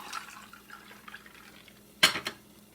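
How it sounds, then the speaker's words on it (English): Homemade mauby drink, strained, is poured into a glass with ice, giving a faint liquid trickle that breaks into a sudden bright clink and rattle of ice against glass near the end, with no talking. "So I'm going to pour it out in this strainer and strain it."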